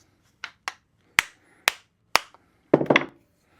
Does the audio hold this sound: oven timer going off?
no